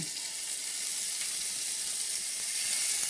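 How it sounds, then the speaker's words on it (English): Meatballs frying in an oiled pan, a dense, even sizzle heard up close and alone, holding steady and swelling slightly at the end. "And then we're gonna put our meatballs in"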